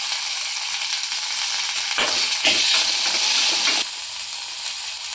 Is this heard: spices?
yes